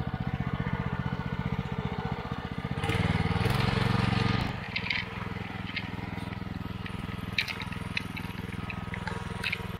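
A homemade plow on a two-wheel tractor with its small engine running steadily while driving, a loud rhythmic putter that swells briefly around a gear change, heard close and without pause.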